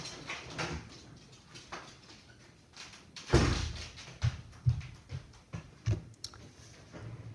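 A door thumps and rattles open to let a dog out, followed by a few scattered knocks and bumps close by in an otherwise quiet room.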